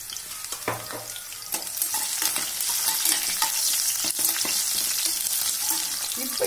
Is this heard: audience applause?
no